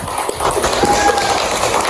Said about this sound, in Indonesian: kita kasih tepuk tangan sekali lagi untuk kelompok 1